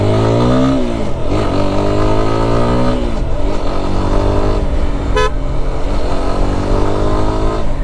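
A Lifan KPT 4V motorcycle ridden on its first ride, a loud close engine drone with rising and falling pitch as it revs through gears, joined by a brief horn toot partway through.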